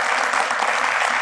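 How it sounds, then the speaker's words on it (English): An audience claps in steady, dense applause on a TV talk program, close and loud throughout without a break. "Give her a round of applause like that."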